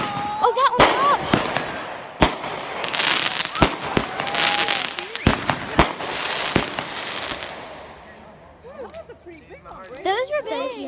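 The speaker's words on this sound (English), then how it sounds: "Okay, they're not big fireworks," Small consumer fireworks going off outdoors on New Year's Eve, a run of sharp pops and crackling bursts at irregular intervals over roughly eight seconds, with people talking and reacting throughout and a brief lull near the end.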